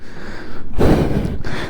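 Heavy, labored breaths rasp inside a motorcycle helmet on the high Zoji La mountain pass in the Himalayas. Close, loud gasping bursts sit over steady wind and engine roar.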